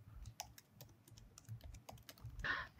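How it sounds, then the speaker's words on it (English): Rapid keystrokes as code is typed on a computer keyboard, a fairly quiet and steady run of clicks with a burst of brighter clatter near the end and no voices. "we can write Antonio in and then the name of our list"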